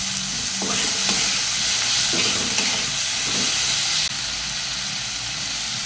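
Onion stalks fry steadily in a hot pan for curry, a continuous loud sizzle with hiss and steam, punctuated by a few stirring scrapes; no one speaks.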